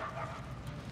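A dog in the Mad Max video game gives a short, close bark over a low background rumble.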